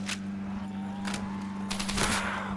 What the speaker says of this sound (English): Now, the Tommy gun's pretty good too.